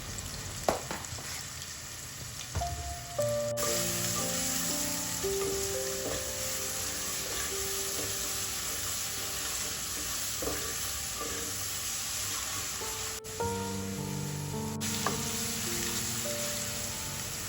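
Onion, ginger and garlic frying in a pan for Kerala ghee rice and chicken curry, a steady close sizzle with occasional stirring scrapes and no talk.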